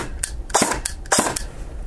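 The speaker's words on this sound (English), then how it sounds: "we've got a 3-round burst as well on full auto there" Airsoft gun fitted with a Perun AB mosfet fires short rapid bursts: two quick clusters of sharp, loud snapping shots close by, separated by brief pauses, with no talking.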